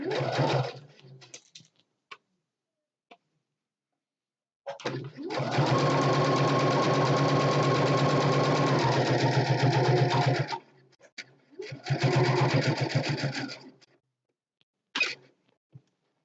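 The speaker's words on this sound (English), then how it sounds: "I've got my needle down in the machine so that I can pivot." Sewing machine stitching around the edge of a fabric door hanging, short bursts and one long steady run of fast rhythmic whirring, pausing for pivots with the needle down, with someone speaking between stitching runs.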